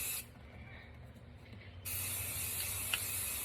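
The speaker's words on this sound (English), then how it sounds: "as you're spraying it, you can see where you're at" An aerosol can of spray paint hisses steadily up close onto a tumbler, a quieter stretch giving way to a louder continuous spray with a small click near the end.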